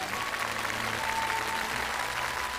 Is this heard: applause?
yes